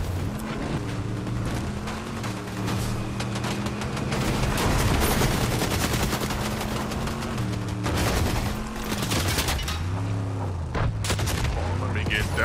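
Video game gunfire crackles nearly nonstop in rapid bursts and volleys over a constant engine-like drone, while players talk over it.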